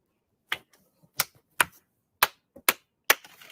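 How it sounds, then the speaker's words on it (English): Six sharp hand claps at an irregular pace, each a crisp close snap with a brief room echo, spaced about half a second apart with quiet gaps between. "so I'm gonna clap"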